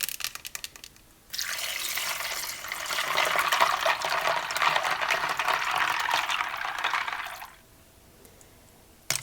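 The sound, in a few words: water poured into a bowl of ice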